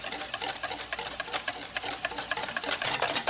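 Egg is whisked with lemon juice for soup, a quick continuous rapid tapping and scraping of a whisk against a bowl, close and steady throughout with no talking.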